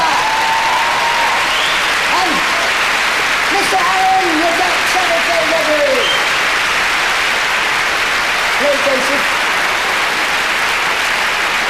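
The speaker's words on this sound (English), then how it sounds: "please can I ask you for a big round of applause for our musicians" Loud, sustained applause from a comedy-show audience for the musicians and musical director, with someone talking over the clapping and some whistles or vocal tones rising through it.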